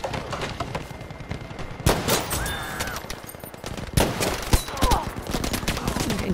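Sniper rifle fire in a multiplayer shooter game: a few loud, sharp cracks stand out against a steady din of distant gunfire and battlefield noise, with a brief voice now and then.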